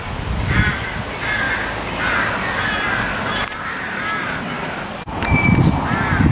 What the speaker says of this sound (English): crow colony up there